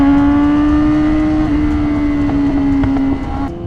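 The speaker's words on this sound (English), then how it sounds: "we are going to navigate ourselves through lovely highway DC traffic" Engine and road noise from driving through busy highway traffic around Washington DC: a loud, steady droning hum heard from close up, running continuously and dipping slightly near the end.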